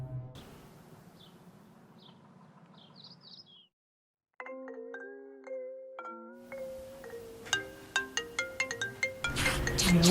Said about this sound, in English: Ah, the phone woke you up.